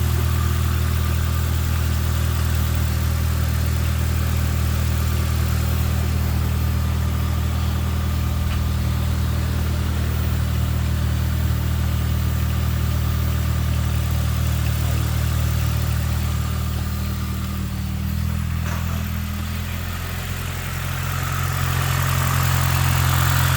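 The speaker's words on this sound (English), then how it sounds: "I do love how this car runs" A car engine idles steadily with a deep, constant rumble throughout, close and loud, dipping briefly near the end before settling back; the engine has a slightly sticky lifter.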